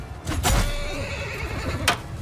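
A horse whinnies loudly and close in the video game Mount & Blade II: Bannerlord, a long quavering neigh over a busy battle background, with sharp bursts of clattering noise at the start and end.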